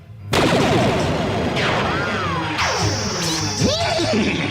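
A Bravestarr cartoon energy wand blast, an electronic zapping burst with warbling, sweeping tones and a sustained high whine, loud and continuous, with swooping pitch glides layered over the roar.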